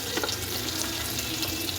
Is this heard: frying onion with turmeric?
yes